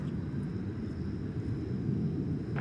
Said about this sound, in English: the Jumbo is on the move